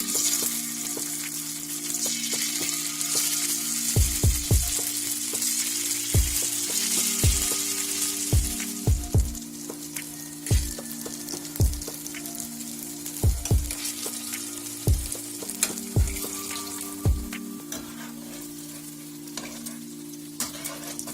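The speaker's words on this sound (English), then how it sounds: "what I'm gonna do now is fry these tofu just to see the texture of it and also how it tastes" Red lentil tofu frying in a pan: a strong hiss of hot oil at first, then a steady sizzle punctuated by a dozen or so sharp utensil taps and clicks against the pan at irregular intervals.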